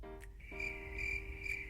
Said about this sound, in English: Cricket noise.